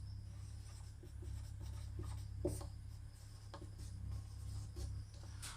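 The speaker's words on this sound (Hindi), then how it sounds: "इसे नीचे करके लिखते हैं।" A classroom board is written on with faint, steady rubbing and scratching strokes over a low background hum, with no voice.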